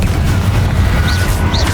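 A Confringo explosive spell bursts in Hogwarts Legacy, a short loud boom with a fiery crackle over a low rumbling backdrop.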